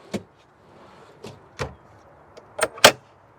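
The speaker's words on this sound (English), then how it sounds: "Drawer." A drawer in a camping box fitted inside a Jeep XJ opens with a series of sharp clunks and rattles. They are scattered at first and grow louder and closer together near the end, with no talking.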